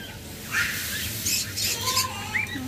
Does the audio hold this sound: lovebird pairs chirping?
yes